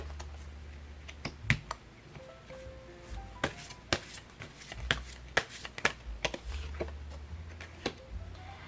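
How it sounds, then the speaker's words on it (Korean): Tarot cards are shuffled and drawn by hand, with a run of irregular crisp snaps and flicks, some close and sharp, over a quiet room. "여러분들에게 일어나게 될 중요한 사건들을 보여주는 카드를 또 뽑아보도록 할게요"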